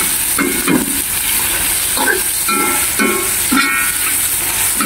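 Pancit bato noodles from Bicol stirred in a hot pan, a steady sizzle and hiss with repeated scraping strokes at a regular rhythm, close and loud, no talking.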